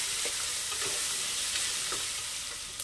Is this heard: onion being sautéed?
yes